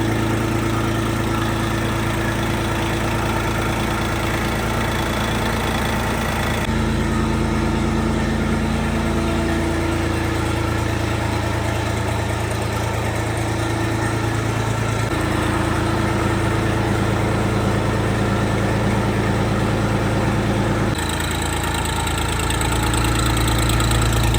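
A Kentavr 244 S mini tractor engine idles steadily and loudly for the whole stretch, with a throbbing low drone and slight shifts in tone.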